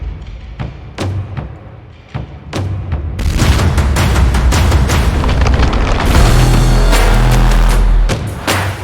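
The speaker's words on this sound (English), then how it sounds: "the little gunshot" Gunshot sound effect in a podcast intro: a run of sharp booming hits, then a loud, dense wall of layered thumps and rumbling impacts that continues to the end, with no one talking.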